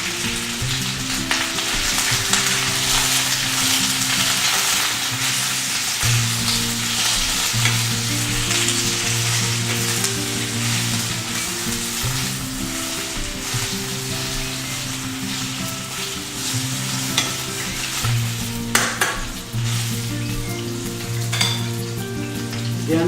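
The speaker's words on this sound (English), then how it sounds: "Now spinach doesn't take very long to cook down." Spinach sautés in olive oil in a sauté pan with a loud, steady sizzle, broken by bursts of stirring and a few sharp clinks from the utensil, with no voices.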